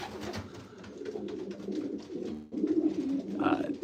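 Pigeons coo in a backyard pigeon loft, soft low throaty calls repeating steadily throughout, with a brief brighter flutter or call near the end, fairly close and moderately loud.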